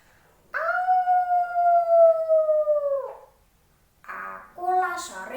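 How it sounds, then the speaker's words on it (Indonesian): A wolf in a children's story about a shepherd boy lets out one long, loud, sustained howl lasting about two and a half seconds, followed by a shorter wavering howl after a brief pause. "Suatu sore, seekor serigala benar-benar datang dan akan menangkap"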